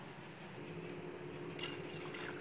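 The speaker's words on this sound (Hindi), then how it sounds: "इसमें हम पानी डाल देंगे।" Water is poured into a pot of soaking chickpeas for restaurant-style chole, a soft steady splash that grows brighter and hissier partway through, close and gentle.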